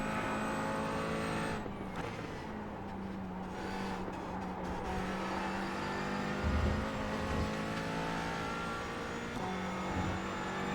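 McLaren 570S GT4 race car engine in a racing game, a steady flat drone held at constant revs across the clip with faint tyre and road noise underneath and no talking.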